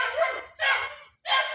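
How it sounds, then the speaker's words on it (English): A small dog gives three sharp, fairly loud barks at close range, with short pauses between them and no talking. "the smallest dogs have the biggest mouths"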